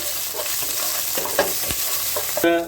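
Four green chillies and garlic fry in hot oil in a pan for a squid chilli fry, a close, steady sizzle with sharp crackles, ending with a brief ringing metallic tone.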